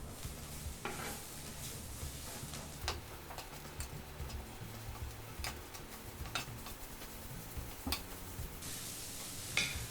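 Diced potatoes and chopped dill sautéing in a pan, a steady low sizzle with scattered clicks and scrapes from stirring, close and moderately quiet with no voices.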